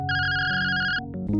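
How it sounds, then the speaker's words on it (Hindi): A phone ringtone plays a loud, bright electronic melody in a few sustained tones, close and alone, ending with a brief shift in pitch. "लेकिन तभी उसके मालिक का फोन आ जाता है।"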